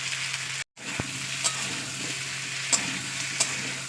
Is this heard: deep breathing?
no